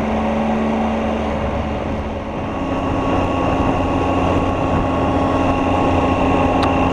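A 2018 Triumph Tiger 800 XRT motorcycle cruising steadily at speed with the rider's visor up, giving a constant loud roar of engine and wind rush with no speech.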